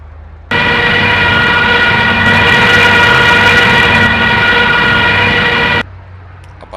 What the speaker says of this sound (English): the siren activates on its own